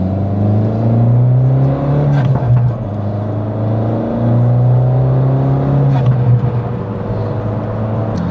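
A close, steady engine drone comes from an Abarth 595 driven on a road in Scotland. Its pitch rises and settles as the car accelerates and shifts through the gears over about eight seconds.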